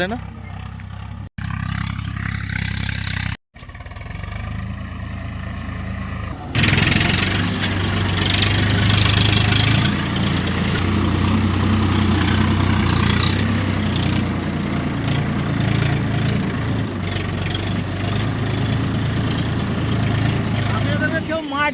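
A tractor engine rumbles steadily in an open farm field on a winter afternoon, growing louder and fuller partway through and continuing as a constant low drone, with people talking over it.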